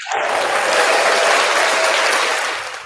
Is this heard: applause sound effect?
yes